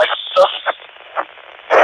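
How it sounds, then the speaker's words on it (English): A short APRS packet data burst comes through the International Space Station FM repeater, heard as brief raspy radio bursts over a steady carrier tone, close and fairly loud. "There's some APRS getting sent out."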